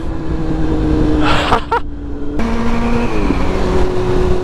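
A Kawasaki 636 motorcycle accelerating hard enough to lift its front wheel, a loud close engine note rising and shifting pitch over several seconds with steady road and wind noise underneath.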